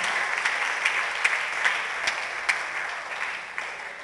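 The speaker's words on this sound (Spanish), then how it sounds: "Denle un aplauso al Señor" Steady applause from a church congregation, continuous clapping with a few sharper claps standing out, no voices on top.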